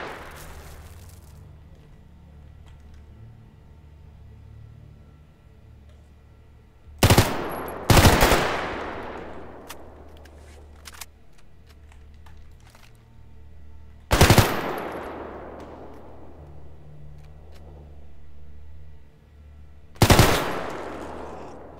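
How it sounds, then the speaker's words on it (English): Machine gun bursts in the video game STALKER GAMMA ring out in four sharp, loud volleys spaced several seconds apart, each leaving a long echoing tail over a low ambient hum. "Why are they shooting?"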